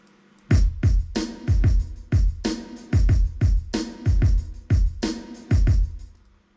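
Boom bap hip-hop drums with a traditional rock-drum character start after a short pause, then heavy kicks and sharp snares repeat in a loud, steady groove with no talking.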